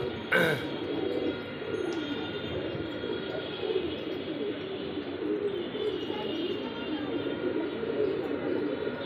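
Pigeons kept with this year's young squabs coo in low, rolling murmurs behind steady ambient noise, fairly quiet and continuous, with a sharp knock near the start.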